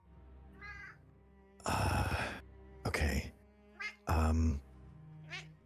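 A talkative cat gives several loud, drawn-out meows and yowls in separate bursts, close by, while a person speaks briefly in between.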